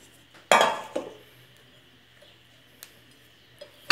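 A blender panettone is knocked out of its metal baking pan: one sharp clatter, a smaller knock, then a few faint clinks in a quiet kitchen.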